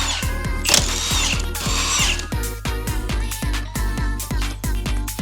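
Rapid repeated bursts of a pneumatic impact wrench loosening front strut bolts on a Lexus IS250C, sharp hammering rattles in short runs with brief pauses, close and loud.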